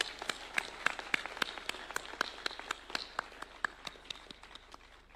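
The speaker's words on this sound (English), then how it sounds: "Let's clap for AGF." An audience at a university installation ceremony claps in a steady, fairly regular rhythm of distinct claps, moderately quiet and somewhat distant.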